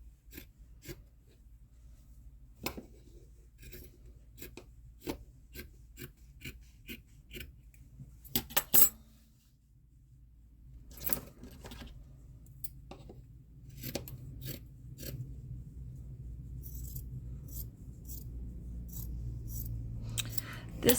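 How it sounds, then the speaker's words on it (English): Scissors snip across fabric for a small decorative house-shaped pillow, a steady run of short crisp cuts close by, with faint handling rustle between and a low room hum underneath. "we're just going to cut across like that"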